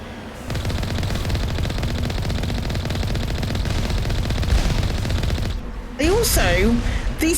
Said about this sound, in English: these turrets shoot at you from so far away.